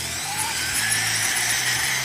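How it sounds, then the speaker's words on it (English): A steady, moderately loud drill whir runs for about two seconds, spinning continuously in reverse up close to remove nuts, with no voices. "just put the drill in reverse, down you go"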